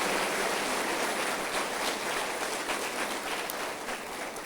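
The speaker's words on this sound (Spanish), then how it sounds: "Denle otro aplauso al Señor." Church congregation applauding during a worship service, a dense continuous wash of clapping that holds steady and fades slightly toward the end, with no talk over it.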